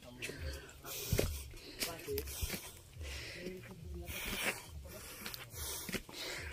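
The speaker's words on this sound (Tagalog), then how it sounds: "Hingal na ako." Heavy, uneven panting and wheezing breaths from a hiker climbing uphill on a rocky trail in Iloilo province, close and fairly quiet, with brief speech mixed in.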